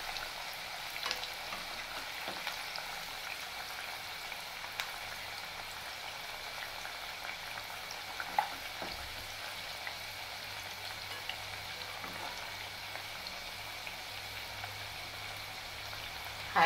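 Sweet pumpkin pakoras fry in hot oil with a steady, soft, continuous sizzle and bubbling, heard close and alone without any talk.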